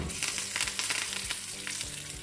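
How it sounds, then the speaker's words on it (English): Curry leaves frying in very little oil in a well-seasoned frying pan, a dense, continuous crackling sizzle with sharp spits and pops, close and steady throughout. "So I'm just going to fry some curry leaves."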